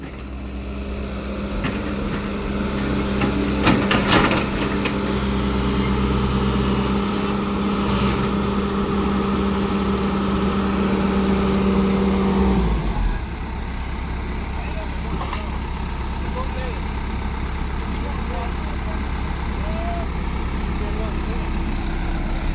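Kubota MU5702 tractor engine labouring while stuck in mud, a loud steady diesel drone with strong low harmonics that drops to a lower idle partway through, with people talking over it.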